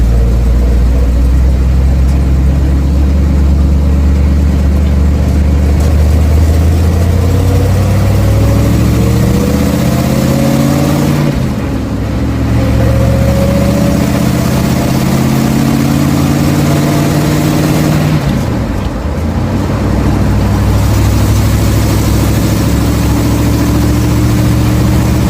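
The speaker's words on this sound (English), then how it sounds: "It's actually quiet enough in here now that I can tell the transmission has a little bit of a whine" 1967 Chevelle cruising with steady engine drone and slowly rising and falling whining tones from its transmission, heard from inside the car through two gear shifts, loud and continuous, no talk.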